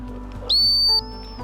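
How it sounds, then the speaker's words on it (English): An Acme dog training whistle gives one short shrill blast of about half a second, clear and close against a quiet outdoor background, not especially loud. "I'm going to start off with an Acme whistle. I love these little whistles. They're not real loud."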